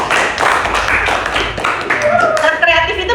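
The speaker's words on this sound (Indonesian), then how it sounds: "Tepuk tangan dulu semuanya." A crowd claps in a quick, dense patter while a voice talks over the applause.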